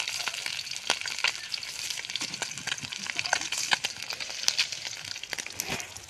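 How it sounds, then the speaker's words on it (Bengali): Fish fries in hot oil over a dry wood fire outdoors, a continuous crackling sizzle dotted with sharp pops and spatters of oil, moderately close and without speech. "মাছ ভাজলে তেল ছিটকে কত জায়গায়"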